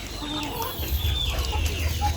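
Farmyard chickens clucking nearby, soft overlapping clucks and chirps over a low background rumble.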